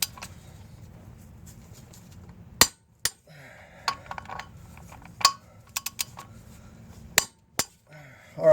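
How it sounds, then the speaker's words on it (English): A torque wrench tightens bolts on a 2008 Mazda Tribute 3.0 V6 engine, giving sharp isolated metallic clicks and clinks spaced irregularly over a low background rumble, close by. "we're going to go ahead and finish torquing these"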